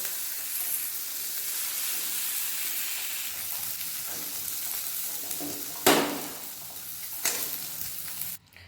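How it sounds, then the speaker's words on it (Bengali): Tomatoes frying in oil in a pan, a steady close sizzle and hiss with a couple of louder bursts as they are stirred, ending abruptly. "এর মধ্যে দিয়ে দেবো টমেটো ভালোভাবে ভেজে নিচ্ছি"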